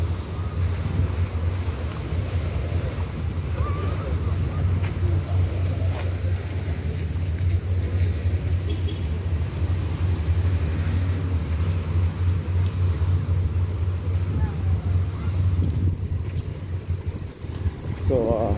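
Boats heading out from Ao Nang Beach in Krabi, Thailand, including long-tail and speed boats, make a steady low engine drone with wind and surf noise on a busy holiday shoreline.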